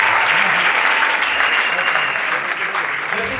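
A concert crowd claps and cheers steadily and loudly for a few seconds, a dense wash of applause at a live Christian music show.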